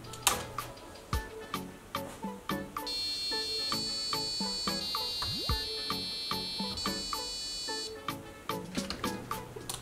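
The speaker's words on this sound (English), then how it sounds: "First, it's a simple program to test the buzzer." An electronic buzzer on a DFRobot UNIHIKER board sounds a run of bright, steady tones over several seconds, layered over a busy rhythmic ticking background.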